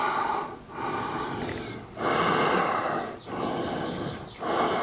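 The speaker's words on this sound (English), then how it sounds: "Big inhale, slow exhales" Deep, slow breathing during a core-strengthening yoga practice: long inhales alternate with drawn-out exhales in a steady rhythm, close and fairly loud, with brief pauses between breaths and no talking.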